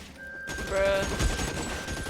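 A quick burst of rapid gunfire rings out in the video game L.A. Noire, dense and loud for about two seconds.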